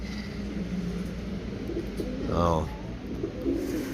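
Live racing pigeons coo once, a short rolling burst, over steady background noise while a voice speaks briefly.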